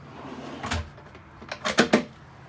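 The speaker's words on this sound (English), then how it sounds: "The bench also has a drawer built in." A storage drawer built into the bench of an expedition truck slides and knocks: a soft thud, then a quick cluster of three or four close wooden clacks as it opens or shuts nearby.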